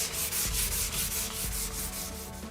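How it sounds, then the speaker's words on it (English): Dry sanding of a maple guitar neck with 400 grit paper, a steady close scratchy rubbing in repeated back-and-forth strokes, roughly five per second, continuous and loud with no talk. "So I'm just taking that off just now with some 400 bit of dry."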